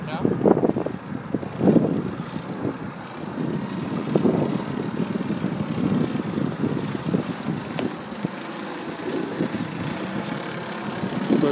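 Radio-controlled model helicopter flying in hold mode, a steady rotor and motor drone with buffeting wind noise on the microphone and speech mixed in.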